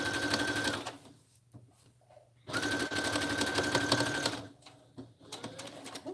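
A sewing machine runs in two long bursts of stay stitching on trench coat fabric, steady and close, with short quiet pauses between runs.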